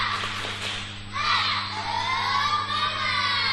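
A group of elementary school children in a religious study class shouting a spirit clapping chant together, loud high voices rising after a brief pause and holding as a lively, sustained chorus.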